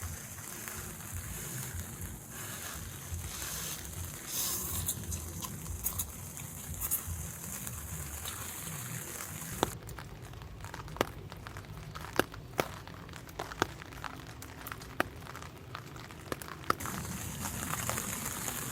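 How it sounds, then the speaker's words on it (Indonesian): Heavy rain drums on a tent at a solo campsite near Bogor, a steady dense patter throughout, with sharper drips and taps striking the fabric in the second half; no voices. "Hujannya tambah deras"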